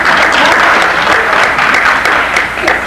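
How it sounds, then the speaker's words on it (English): Strong, continuous audience clapping at a 1996 high school ring ceremony in an indoor hall, many hands applauding evenly and loudly for the full stretch. "Go ahead, clap, they deserve it."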